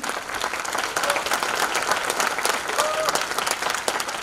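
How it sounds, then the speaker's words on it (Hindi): An audience at a network marketing seminar applauds loudly, with dense, lively clapping from a crowd close by, rising slightly and holding steady throughout. "तो एक जोरदार तालियां चाहूंगे"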